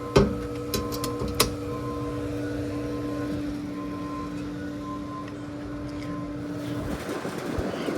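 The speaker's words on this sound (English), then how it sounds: "We're gonna turn our pump on, turn our heater on." An AquaCal pool heat pump and pool pump starting up, a steady mechanical hum with fixed tonal whine, with a few sharp clicks at the start.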